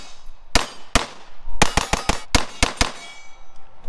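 Handgun shots ringing off steel targets at a shooting range: sharp, loud cracks with metallic clangs, two spaced shots followed by a quick rapid string of about seven more, fairly close.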